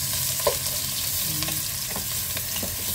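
Onion and garlic sautéing in leftover frying oil from cooking soup, a steady close sizzle and crackle with occasional stirring clicks throughout.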